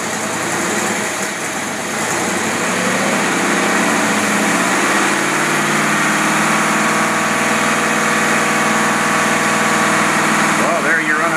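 A marine engine with a Rochester Quadrajet carburetor runs steadily and loudly at about 40 knots, a constant droning roar that builds slightly at the start and holds without pause.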